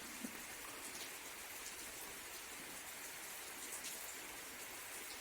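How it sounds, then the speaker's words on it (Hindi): Steady, soft rainfall at night fills the quiet with a continuous hiss and scattered droplet patter, faint and even throughout. "बारिश की आवाज़ आप सुन ही सकते हैं"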